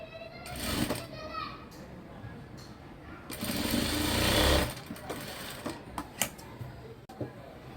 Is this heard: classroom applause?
no